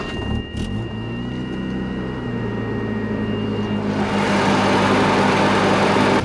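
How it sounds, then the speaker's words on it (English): A first-generation Mazda RX-7 (1979–85) rotary engine idles steadily, a cooling clutch fan roaring louder and whooshing air from about the four-second mark onward, close and continuous with no talk. "So a good clutch fan, when you turn it on, when it's cold, it'll woo for a minute and then stop."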